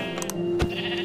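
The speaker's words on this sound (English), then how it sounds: "I should probably kill this sheep" A sheep in the Minecraft video game bleats in two quick, close, clear calls, followed by a short thump, all over a faint steady hum.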